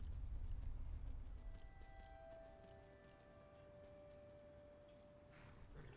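Hooves of a horse in a video game clip-clop steadily at a walking pace, soft and fairly quiet, alone over a faint low rumble with a few thin tonal hums.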